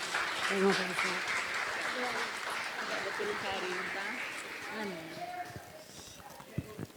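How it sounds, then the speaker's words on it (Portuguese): A church congregation applauds during a Sunday morning worship service, a steady wash of clapping with voices talking over it throughout. "Vocês podem aplaudir o Senhor, querido."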